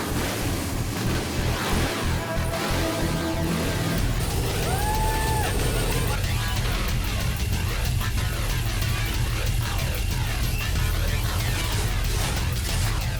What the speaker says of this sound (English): This race truck built from scratch growls like a mountain lion ready to pounce.